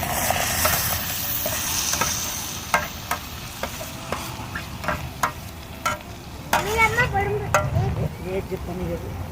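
Tomato juice hits a hot frying pan of onions at a campsite, a steady sizzle with scraping stirs and sharp clinks, and outdoor insect chirps rise in the background.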